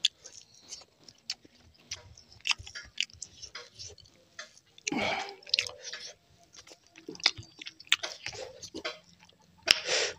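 Close, soft chewing and wet squishy bites while eating spicy egg curry and fish curry with rice, irregular smacks and crunches at quiet level with no talking.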